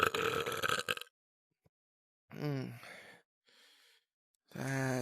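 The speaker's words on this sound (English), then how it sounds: "I'm able to burp on command, you know." Burping on command: a long, raspy, close belch, then after a pause two deep, voiced burps with a faint breathy sound between them, loud and alone.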